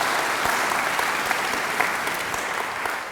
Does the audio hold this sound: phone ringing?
no